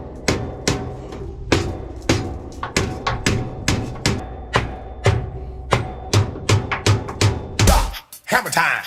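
A hammer pounds on metal parts of a 1980 Peterbilt 359 truck in a steady series of loud, sharp blows, about two per second, with a brief clattering scrape near the end.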